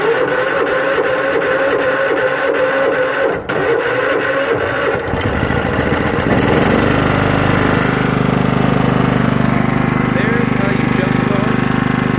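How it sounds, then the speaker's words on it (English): Lawn mower engine cranking and then starting off a portable jump starter, a rough grinding crank giving way to a steady loud running drone that holds to the end, close by. "A lawnmower using a portable jump starter."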